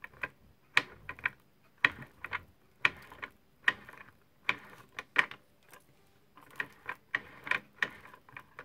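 A tape dispenser's lever pressed repeatedly to turn the adhesive tape roll, giving sharp ratcheting mechanical clicks in uneven bursts, close and fairly quiet, with short pauses between presses and no voices.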